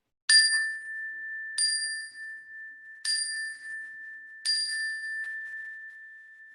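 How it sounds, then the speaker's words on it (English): A sound chime is struck four times at an even, unhurried pace, each bright metallic ding ringing out clearly and decaying before the next, heard alone in silence. "How many times am I hitting the sound chime?"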